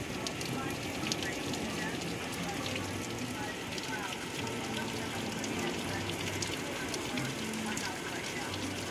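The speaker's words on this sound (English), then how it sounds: "it's raining really hard" Heavy rain pours down steadily for the whole stretch, a dense continuous hiss and patter with no pauses, fairly close and even in loudness, with a storm rolling in overhead.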